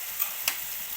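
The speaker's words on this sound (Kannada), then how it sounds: "ಎರಡು ನಿಮಿಷ ಅದು ಟೊಮೆಟೊ ಮೆತ್ತಗಾಗೋಕ್ಕೆ ಬಿಟ್ಟಿದ್ನಲ್ಲ, ಈ ಥರ ಫ್ರೈ ಆಗುವಾಗ" Tomatoes softening in a pan with a pinch of turmeric give off a faint, steady sizzle for a moment, broken by two soft clicks.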